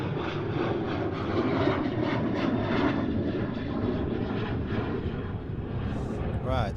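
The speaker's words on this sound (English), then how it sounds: "Right, Amsterdam to Barcelona, A320 from Vueling." A Vueling Airbus A320 jet takes off at Amsterdam Schiphol airport, heard as a steady broad engine roar that holds loud and constant throughout, with a voice briefly audible in the background.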